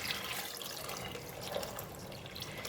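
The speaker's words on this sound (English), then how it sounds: "And I'm going to put in some more water." Water pours steadily into a cooking pot holding kidney beans, a continuous faint splashing rush with no talk.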